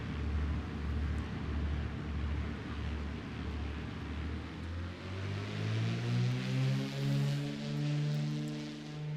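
Beechcraft Baron B55 twin piston-engine aeroplane in MSFS 2024, heard from outside: a steady, loud engine drone whose pitch climbs smoothly and evenly in its second half, with no voices.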